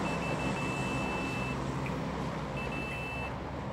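Steady electronic beeping from a vehicle horn in the video game PUBG Lite, a thin continuous tone that sounds for about a second and a half, stops, then returns over a low rumbling engine drone.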